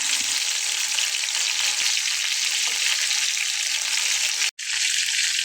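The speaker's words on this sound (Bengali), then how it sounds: "আমার মাছগুলো কিন্তু ভাজা হয়ে গেছে।" Fish pieces frying in hot oil for a thin Bengali fish curry give a steady, dense sizzle throughout, broken only by one very brief dropout near the end.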